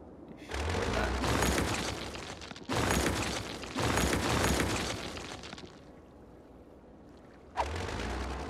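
Building demolition in Cities: Skylines, heard as several broad rumbling crash-like bursts of crumbling noise, each lasting about a second or two, separated by brief lulls, with a final sharp crash near the end.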